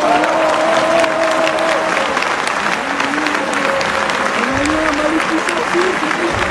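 An audience breaks into loud, sustained applause to welcome a Malian musician, dense clapping filling the space throughout.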